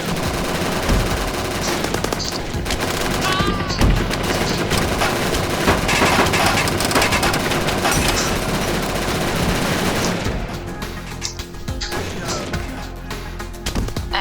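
Rapid, sustained gunfire from the Hyper Blaster in the VR game Operation Warcade, dense bursts of shots with explosions layered over a loud, busy game soundtrack, easing slightly near the end.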